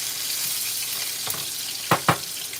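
Celery hisses as it fries in bacon grease in a pan, an even close sizzle topped by two sharp clanks of a utensil near the end, with nobody speaking.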